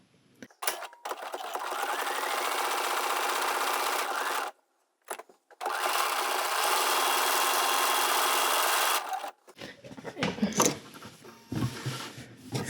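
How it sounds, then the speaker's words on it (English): A domestic sewing machine automatically stitching a buttonhole on a fabric reticule bag runs in two long steady whirring bursts split by a brief pause, then stops, leaving quiet handling noises. "my machine just does the buttonhole on its own, so I'm not going to do a whole lot other than just let it do its thing"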